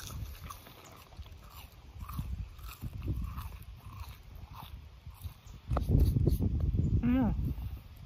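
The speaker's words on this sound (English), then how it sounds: "And now I'm gonna be eating it." Someone eating a Sonic chili cheese coney with fries, close-up wet chewing and biting noises interrupted by short bursts of speech and rustling, with louder mouth sounds toward the end.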